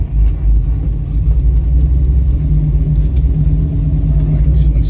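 A 1969 Chevrolet Camaro rumbles with a loud, deep, steady engine note as it drives and makes a U-turn, heard from inside the car.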